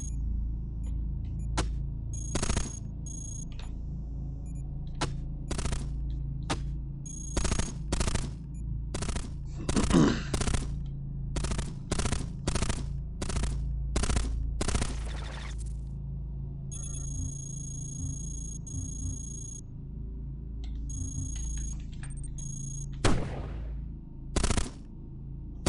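Robots trade fire in the game Cogmind, with irregular bursts of sharp gunshots and rapid machine-gun clusters over a steady low electronic hum, moderately quiet, then a pause before a couple of final shots.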